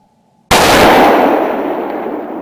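A rifle shot fired while hunting, one sharp loud blast after a moment of quiet, followed by a long fading echo rolling across open ground.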